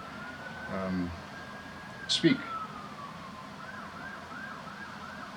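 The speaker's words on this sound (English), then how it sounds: "Sorry about the siren in the background." A distant siren in downtown Toronto wails and warbles faintly in the background, rising and falling steadily, while a voice speaks briefly and a few closer clicks sound.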